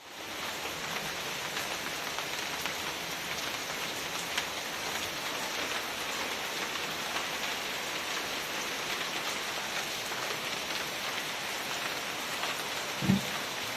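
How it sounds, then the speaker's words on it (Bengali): Steady heavy rain pours down, a dense continuous hiss of drops on surfaces with no break, ending with a single soft thud. "কত জোরে বৃষ্টি হচ্ছে দেখ"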